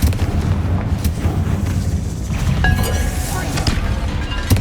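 A spell explosion in the Hogwarts Legacy video game booms loudly amid constant rumbling game effects and continuous blasts, with a crackling burst partway through.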